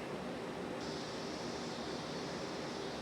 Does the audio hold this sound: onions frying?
no